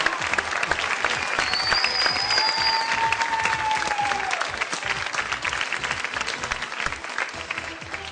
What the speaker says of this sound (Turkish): Son bir moral alkışı lütfen